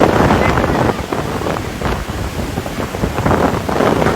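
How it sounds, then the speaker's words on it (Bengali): Strong storm wind from Cyclone Remal on the Bangladesh coast roars and buffets continuously, surging and easing in heavy gusts with a dense rumbling rush. "ঝড়ো হাওয়া"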